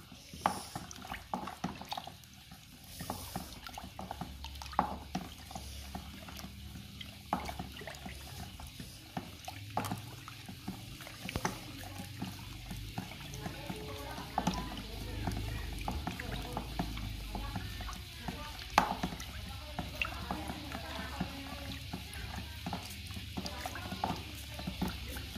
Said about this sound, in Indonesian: setelah kita masukkan kemudian kita aduk ya yang merata